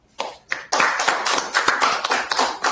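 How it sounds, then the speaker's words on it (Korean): A small audience at a book talk claps to welcome a speaker; a few scattered claps build into a sparse, uneven patter of individual hands, close and moderately loud, lasting under three seconds. "원영 선생님 박수로, 발표를 듣겠습니다"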